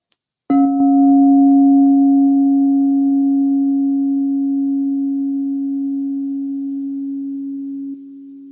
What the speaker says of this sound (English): Feel the vibration of the sound of the bowl moving through you as it heals and restores and resonates through your whole